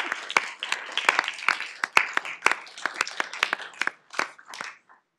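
Scattered clapping from a modest council meeting audience, distinct individual claps forming a short round of applause that thins out and stops after about five seconds.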